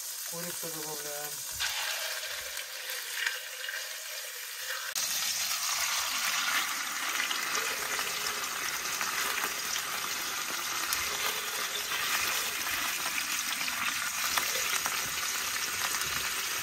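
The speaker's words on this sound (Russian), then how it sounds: "И жарим по 15 минут с каждой стороны." Chicken frying in butter in a cauldron over a campfire by a forest log cabin, a loud, steady sizzle that swells after a few seconds and runs on continuously with no talk.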